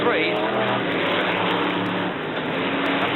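Brisca F1 stock cars race around the Brafield oval with engines roaring loudly at close range, a continuous rough drone under excited commentary.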